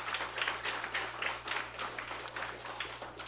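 A church congregation claps together after the choir's hymn at an Easter Sunday service, the applause soft and somewhat distant, falling into a loose rhythmic pulse over a low electrical hum.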